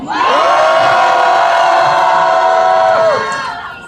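A crowd at an anti-war peace candlelight rally marking the 70th armistice anniversary shouts a loud cheer in unison, one sustained roar lasting about three seconds before fading.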